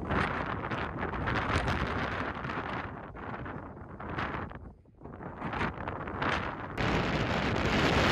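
Loud, gusting wind buffeting the microphone on a cloudy mountain top, roaring continuously with a brief lull midway before surging back.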